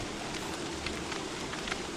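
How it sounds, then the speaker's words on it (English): Steady rain in the video game Don't Starve, a soft even hiss of falling drops with a few faint crackles, quiet and continuous throughout, with no voices. "this was a horrible rain"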